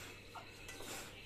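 A Tefal Ingenio cooking pot being handled, giving a brief faint metallic clink and light scrape of cookware, quiet and close.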